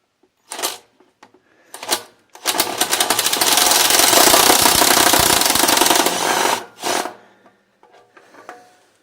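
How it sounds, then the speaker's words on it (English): Impact driver pulling a long bolt from a Hyundai alternator, with short bursts and then a sustained loud rattling hammer lasting several seconds before it stops, close up. "helps to have one of these impact drivers when you have long bolts"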